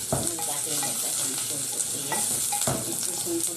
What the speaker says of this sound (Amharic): ሽንኩርቷ ቀይ እስከምትሆን ድረስ ጥብስ ትደረጋለች ማለት ነው።